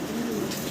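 A Syrian Safari fancy pigeon gives a single short, low, throaty coo, close and fairly soft, over a quiet background.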